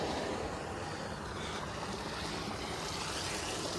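Water pump motor running continuously at home after a burnt-out motor was replaced, a steady broadband whirring and rushing like flowing water, loud and unbroken with no talk.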